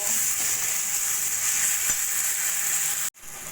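Ginger-garlic paste sizzles hard in a pan with tomato, onion and spices for chicken keema masala, a loud, steady frying hiss that stops abruptly just before the end.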